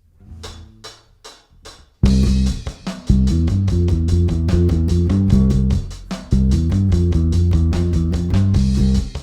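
A bass guitar plays a punchy, rhythmic riff of repeated low notes, starting with a few sparse plucks before settling into a steady groove.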